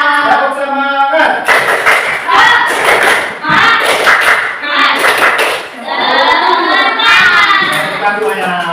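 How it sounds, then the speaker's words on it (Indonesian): A classroom of pupils performs a rhythmic spirit clap, sharp patterned handclaps in bursts interleaved with loud group chanting voices, close and lively throughout. "Tepuk semangat."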